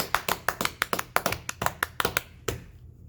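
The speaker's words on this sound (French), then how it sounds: "je pense que vous méritez un matin une belle main d'applaudissements" A short burst of sparse, crisp hand claps from an audience, fairly close, with sharp individual claps in a quick, uneven rhythm that stop after about two and a half seconds.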